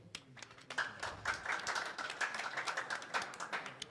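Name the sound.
audience clapping hands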